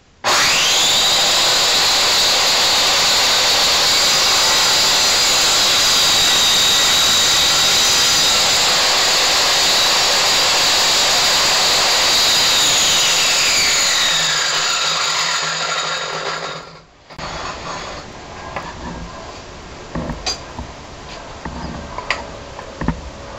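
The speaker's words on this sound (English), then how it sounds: "And on with the saw." A loud power saw whines steadily through wood for about fifteen seconds, then winds down, followed by faint clicks and handling noises.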